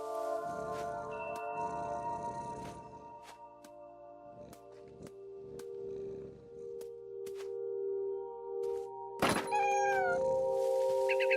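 A cat meowing in a game scene: scattered soft sounds and a low steady hum build to a sudden loud yowling meow near the end, stretched and wavering, alone with no talk.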